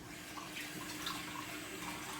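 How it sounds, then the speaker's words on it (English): Tap water runs steadily into a container while a sponge cake is being prepared, a continuous close splashing flow with faint dripping detail and no speech. "We're just going to fill it with water."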